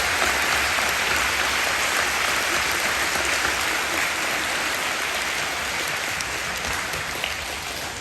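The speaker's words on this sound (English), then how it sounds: "So a round of applause for these guys again." Audience applause for veterans at a Veterans Day speech, steady dense clapping like rain, sustained at a fairly even level for several seconds and tapering slightly at the end, with no talk.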